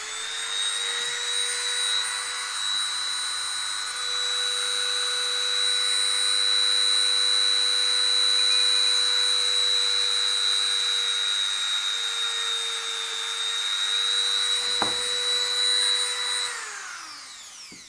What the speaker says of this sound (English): this should be literally just drilling the holes